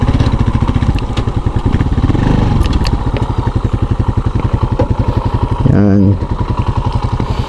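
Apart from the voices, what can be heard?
Rusi Macho TC 150 motorcycle engine idling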